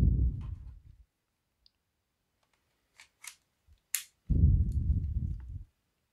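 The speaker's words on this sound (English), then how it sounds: "reattach those Joy-Cons" Nintendo Switch Joy-Con controllers snapping onto the console as they are reattached after a reset: a few sharp, close clicks, spaced apart, between bursts of soft handling rumble.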